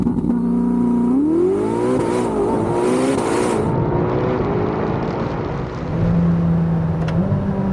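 A Ferrari hybrid twin-turbo car accelerates hard on back roads, its loud engine note climbing steeply through rising gears with brief shift breaks, close and continuous, no talk.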